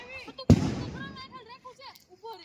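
A sharp bang from a 30-shot firework cake at a Diwali celebration, followed by a crackling tail as people talk and exclaim nearby; another pop starts right at the end.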